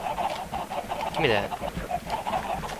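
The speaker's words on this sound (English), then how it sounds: "Bunch of fucking chickens in there." Chickens in a video game clucking in short repeated bursts throughout, fairly close and steady, with a brief spoken phrase over them partway through.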